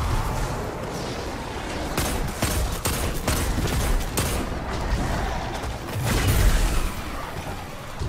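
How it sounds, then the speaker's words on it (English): Dense hand cannon gunfire in the Destiny video game, with rapid overlapping shots and heavy booms in a loud, continuous battle that swells near the end. "Oh, I'm loving this hand cannon."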